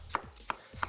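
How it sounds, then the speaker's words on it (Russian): A knife slices young white cabbage thinly on a board, three crisp, evenly spaced cuts in under a second, close and clear with no talking. "Смотрите, капусту нарезаю"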